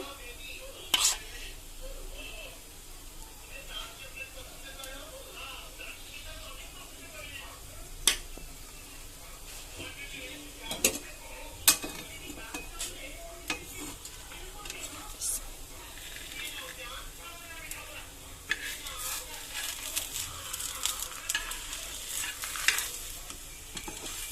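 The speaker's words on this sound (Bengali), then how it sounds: "পাটি সাপটাটা একটু হালকা ভাজা পছন্দ করি তাই আমি একটু হালকা লাল করে নিয়েছি" Patisapta pitha frying in a pan, stirred and scraped with a utensil: a low, steady sizzle broken by scattered clicks and scrapes, with a soft voice murmuring underneath at times.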